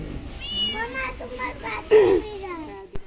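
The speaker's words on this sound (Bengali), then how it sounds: "মাছের গন্ধে বিড়াল চলে এসছে।" A cat meows a few times, mixed in with a voice and other chatter nearby.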